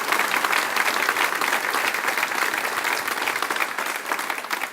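A crowd at the Harlingen State of the City address gives a sustained, even round of applause that stays loud and dense throughout before easing slightly at the end.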